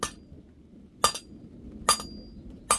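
Light hammer taps on a metal candle holder against an anvil while it is being straightened: four crisp, ringing clinks spaced about a second apart over a quiet background hum.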